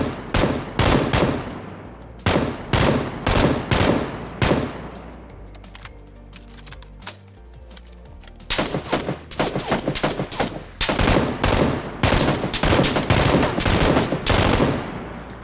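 Bursts of M249 light machine gun fire in PUBG, loud and close, with rapid rattling volleys separated by short pauses and a quieter stretch in the middle before the firing resumes.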